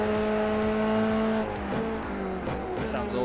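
Formula 3 race car engines in a sim racing game at Phillip Island, 20 cars, a loud sustained high-revving drone that holds steady then breaks into quick shifts and fluctuating pitch as cars pass, with faint tire noise.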